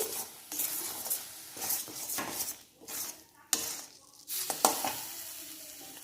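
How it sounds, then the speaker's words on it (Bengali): Spoon scraping and stirring a thick carrot and Amul milk sweet mixture in a pan, a steady scraping and gentle sizzling with a few sharper knocks against the metal, close by. "প্রায় আমি 20 মিনিট ধরে এইভাবে নাড়াচাড়া করছি।"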